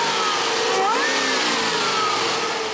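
Modded C6 Corvette Z06 with long tube headers fires up on a dyno, a loud, close engine roar that settles into a steady, rumbling idle with slight pitch sweeps throughout.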